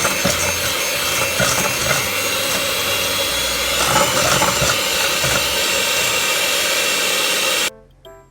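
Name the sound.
mixing sugar into egg whites in a bowl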